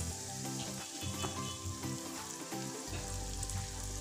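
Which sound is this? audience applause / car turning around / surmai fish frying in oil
surmai fish frying in oil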